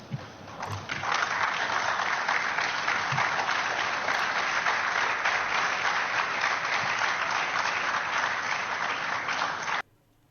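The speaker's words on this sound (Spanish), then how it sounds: "Ovacionado por la sala de prensa, a quien no, le saldría el aplauso de adentro para Lionel Scaloni" Press room applauding Lionel Scaloni, a steady dense ovation of many hands at close range, sustained evenly for about ten seconds before it cuts off abruptly.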